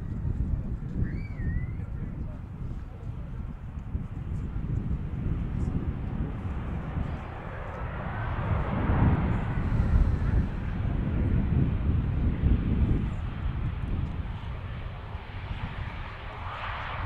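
An Aer Lingus A320 airliner at Manchester Airport gives a low, distant jet roar that swells midway and then slowly fades, with wind buffeting the microphone.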